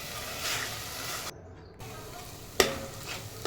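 Ground masala paste for mutton curry roasts in oil over medium gas, with a steady buzzing sizzle, a brief near-silent gap, then a sharp stir or clink, close and moderate, no talking.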